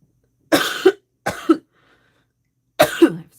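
Three separate bursts of harsh coughing from one person indoors, each about half a second long with a short gap between, loud and close with nothing else around them.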